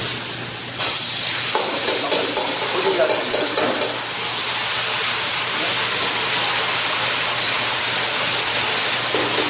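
Loud, steady hiss of doenjang jjajangmyeon ingredients frying in hot oil over high heat, a continuous broadband sizzle filling the whole stretch with slight swells, close and dominant.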